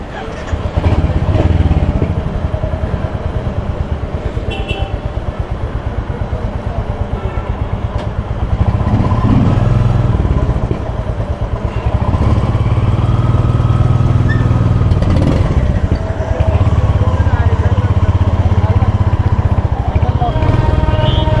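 A motorcycle engine idles in neutral with a low, steady rumble throughout, swelling briefly at times, while someone talks over it.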